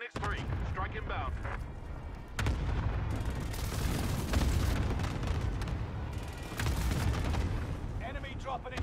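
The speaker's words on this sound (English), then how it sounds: "Target here for airstrike. This is Phoenix 3. Strike inbound." Heavy explosions from an airstrike in a military shooter roll and rumble in several loud bursts, layered with scattered gunfire, while a voice speaks over the din.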